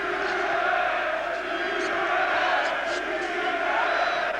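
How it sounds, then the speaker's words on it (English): A dense arena crowd roars in sustained cheering for the boxer Chris Eubank at a professional fight, a steady loud wall of voices with scattered shouts and whoops throughout. "that's the loudest cheer that Eubank, I'm sure, has had in his career"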